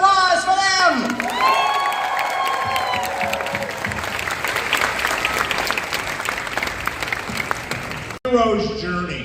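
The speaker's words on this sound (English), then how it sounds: "Another round of applause for them" A convention panel audience gives sustained applause with scattered cheers and whoops, steady clapping throughout and some voices and shouts mixed in before it briefly cuts off near the end.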